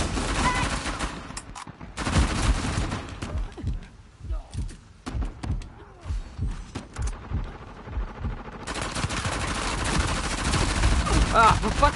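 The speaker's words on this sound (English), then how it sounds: "It's like P90 blind fire from every freaking direction." Dense P90 automatic gunfire in Uncharted 4 multiplayer, loud bursts coming from all around with rapid rattling volleys, a short lull midway, then heavy firing again, with a voice heard among the shots.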